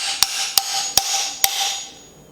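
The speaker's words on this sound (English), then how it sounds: "And then take your hammer, and we're just going to tap it, and you'll see the oil start to come out" A hammer taps a Fox Step-Cast fork cartridge during an oil change, four sharp metallic strikes spaced about half a second apart, close and clear with no talk.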